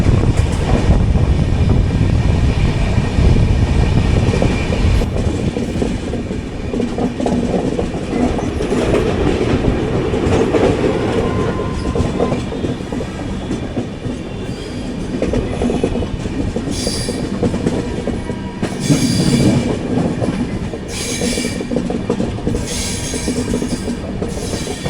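Jan Shatabdi Express 12077 running from Chennai Central toward Vijayawada, heard from inside an AC chair car: a steady, loud rumble of wheels on track with rhythmic clatter and occasional squeal over about twenty-five seconds.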